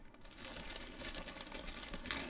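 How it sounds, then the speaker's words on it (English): A massive plastic bag holding Revell 1/8 scale Bandit model kit parts is handled, giving soft, continuous crinkling and rustling. It is quiet and close, with a sharper crackle at the very end. "So yeah, we'll put them all back in that massive plastic bag there."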